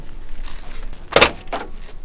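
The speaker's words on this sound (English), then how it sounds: "Should I open the door and have a look?" The lightweight door of a stripped-out race car with no interior opens with a sharp metallic latch click, then a softer clunk against a faint background hum.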